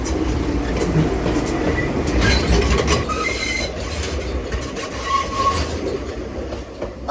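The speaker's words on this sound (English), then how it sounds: "you can actually have the view of the train coming." A train rolls past near the sea in Kamakura, Japan, with steady wheel rumble, rhythmic clickety-clack and a few faint squeals. It is loud and close throughout, and no one speaks.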